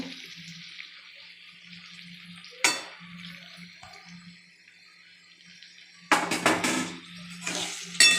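Eggplant pieces dropped into a pan of sizzling fish-head vegetable curry, a steady low frying hiss broken by a few sharp splashy clatters as the pieces go in and are stirred.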